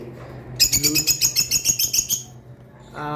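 Lovebirds chirp in a quick, rhythmic run of sharp, bright calls, close and fairly loud, before falling quiet; a short voice comes in at the very end.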